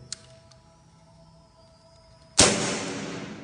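An M84 full-metal airsoft gun dry-fires with no BBs loaded, giving a single sharp, loud mechanical crack up close with a short metallic decay after a quiet stretch.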